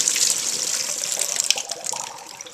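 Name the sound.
water draining from cut potatoes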